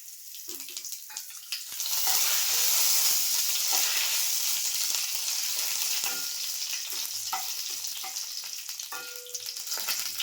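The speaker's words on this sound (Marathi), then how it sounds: "आता तेलामध्ये मी जिरं घेतलं आहे थोडंसं फोडणीला, 2-3 लवंग घेतलेत, थोडीशी दालचिनी घेतली आणि 2 तमालपत्रे घेतलेत, ते मी टाकते." Cumin, cloves, cinnamon and bay leaves are dropped into hot oil for tempering, and a steady bright sizzle swells after a couple of seconds and continues, with occasional stirring clinks, close and alone.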